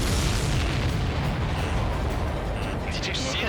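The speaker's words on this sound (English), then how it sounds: "Did you see that explosion?" Explosion of a supply ship in the air-combat game Ace Combat 7: a loud, sustained low rumbling blast that rolls on for several seconds, with crackling debris and radio chatter mixed in.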